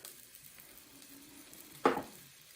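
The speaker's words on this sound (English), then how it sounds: "So, I hear my pot sizzling." Faint, steady sizzling of bell peppers, garlic, poblano and jalapeño peppers frying in a pot for chili, with one brief louder clatter or hiss near the end; no talking.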